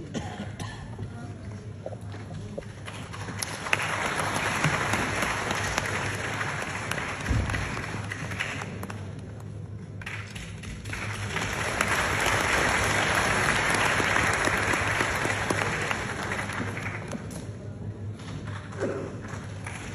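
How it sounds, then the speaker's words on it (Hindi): Loud audience applause welcomes the Law and Justice Minister at a public function, sustained for the whole stretch and swelling louder toward the end, with a continuous low hum underneath. "जोरदार तालियों से स्वागत, वंदन, अभिनंदन।"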